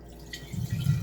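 Cloudy rice rinse water is poured out of a pot into a sink, a soft, close splashing trickle that swells slightly toward the end.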